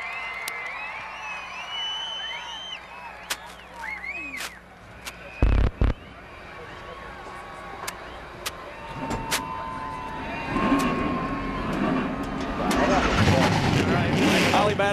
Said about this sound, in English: everybody fired their engines right up. 36 trucks have come to life here at Las Vegas Motor Speedway